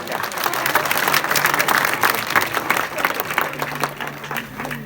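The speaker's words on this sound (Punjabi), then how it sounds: "ਤਾੜੀ ਮਾਰ ਕੇ ਸਾਡਾ ਹੌਸਲਾ ਵਧਾ ਦੋ" Applause from an audience at a village gathering in Burj, Malerkotla, sustained clapping with crowd murmur running steadily throughout, fairly close and loud with faint voices mixed in.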